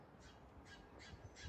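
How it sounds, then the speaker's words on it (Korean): Bird calls, tagged as crows cawing, played from a phone app to lure birds to feed: four short bright bursts at a steady rhythm, moderately faint over low background rumble, with no talking. "앱으로 새소리를 들려주고 먹이를 주니까 오는 거예요, 새들이"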